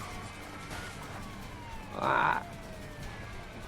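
Police car sirens from the video game A Way Out sound through continuous game noise, with one brief, louder siren wail near the middle and a short vocal exclamation.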